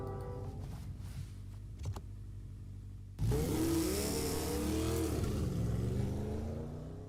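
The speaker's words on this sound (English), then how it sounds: "he jumped onto his motorcycle and took off" Motorcycle engine in a video game roars to life after a quiet stretch, then revs loudly with rising and falling pitch as it pulls away, staying close and dominant to the end.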